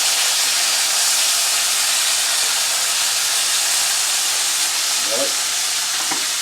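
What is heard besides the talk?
togarashi chili beef frying and splattering in pan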